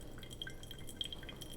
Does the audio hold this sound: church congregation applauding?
no